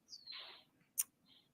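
A small bird chirps outside an open window: a couple of short, faint tweets with a sharp higher note in between, heard against a quiet indoor background.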